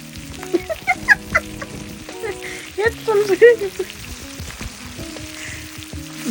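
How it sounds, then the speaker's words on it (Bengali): Pieces of hilsa fish frying in hot oil in a home kitchen, a steady crackling sizzle with occasional sharper pops, joined by a person speaking over it. "তো এই তো ভাজা শুরু করলাম।"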